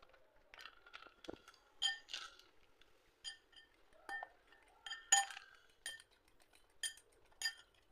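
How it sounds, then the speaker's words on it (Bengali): Whisk clinking against a bowl as milk batter is mixed with semolina, quiet irregular metallic taps and scrapes in close succession with no talking. "সুজিটা দিয়ে আমি ভালো করে এইভাবে আরও দু মিনিট ধরে ভালো করে ফাটিয়ে নেব"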